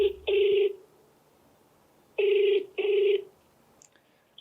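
Ringback tone of an outgoing phone call, three loud, close double-pulse rings separated by pauses, with no talking during the rings.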